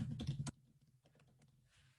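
Keystrokes on a computer keyboard: a dense burst of clicks, then sparser, fainter taps tapering off, close and alone with no talk.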